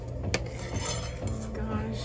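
A metal spoon scrapes and clinks against the inside of a pot while fishing out a dropped item, close and quiet, with a few light taps and knocks.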